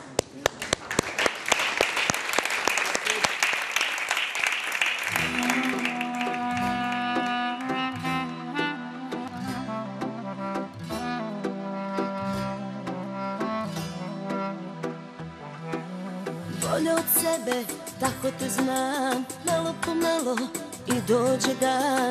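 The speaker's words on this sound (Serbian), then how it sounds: "Ajmo veliki aplauz." A TV studio audience on a music show bursts into dense loud applause for about five seconds, then the clapping fades under a band striking up a song.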